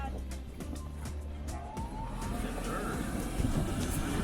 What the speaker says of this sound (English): Turn the blower on.